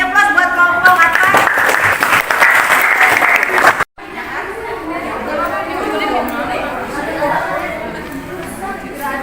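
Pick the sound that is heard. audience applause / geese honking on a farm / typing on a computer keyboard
audience applause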